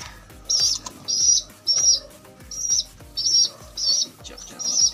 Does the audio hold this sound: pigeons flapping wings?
yes